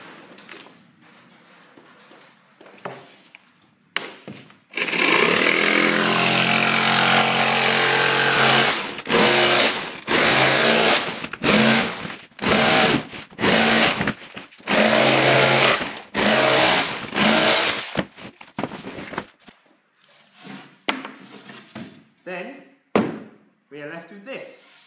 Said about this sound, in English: just to make it easier for the router to cut the excess away